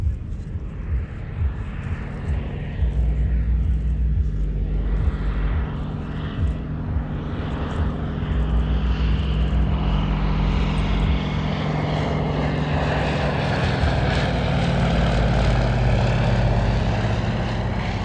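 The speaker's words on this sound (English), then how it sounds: "next display now is the Fairey Swordfish" A Fairey Swordfish biplane in a flying display at the Abingdon Air and Country Show, its propeller engine droning loud and steady throughout, swelling slightly as it passes.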